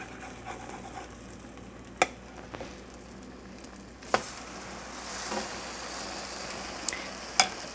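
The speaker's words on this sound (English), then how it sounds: "Make sure the pan is hot. You can hear it sizzling a little bit." French toast frying in a hot pan, a steady soft sizzle and crackle, building slightly midway, with occasional sharp utensil clicks and no talking.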